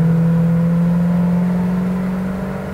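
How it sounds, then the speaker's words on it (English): A 1992 Winnebago Elante 37RQ motorhome with a big block Chevy engine drones steadily while driving, a loud, even hum heard up close from the cab that eases slightly toward the end. "Motor sounds good."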